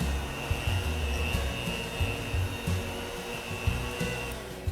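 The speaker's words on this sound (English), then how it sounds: "Just quickly stop my mixer." An electric stand mixer beats pumpkin spice cookie dough, a constant droning whir with small rhythmic bumps, fairly close and steady, with no voices over it.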